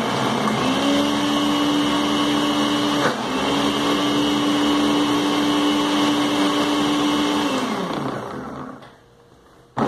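A blender whirring through homemade seasoning of three onions, a steady motor drone with a short dip partway through, then spinning down and stopping near the end.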